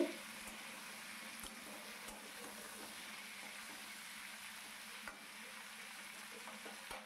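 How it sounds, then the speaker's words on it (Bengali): Pointed gourd and beans stir-fry with kachki fish in a pan, a soft, steady sizzle with occasional scrapes and taps of the spatula, quiet and close. "এবারে এইগুলোকে ভালো করে নাড়িয়ে চাড়িয়ে একটু কষিয়ে নিতে হবে।"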